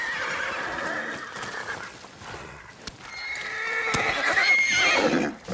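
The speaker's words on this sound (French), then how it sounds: "Les chevaux ont dû sentir un danger." Horses in Ghost of Yotei let out loud, shrill neighs and whinnies up close, with a few hoof clops and shuffles in between.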